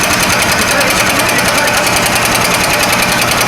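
A brake lathe cuts a brake rotor clamped at its center, on the second of three passes across one side: a loud, steady, continuous metallic grinding whine with a harsh high ring, running unbroken with no talk.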